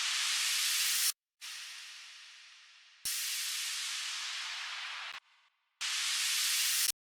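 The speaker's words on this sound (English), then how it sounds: "To finish it off, I added this simple white noise effects." Bursts of bright hissing white noise, each sweeping and fading, separated by short gaps of silence.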